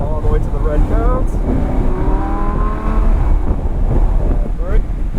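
A Lamborghini Huracan on a race track accelerates with a loud, sustained engine note climbing steadily in pitch, close and rough with wind noise, while a person talks over it.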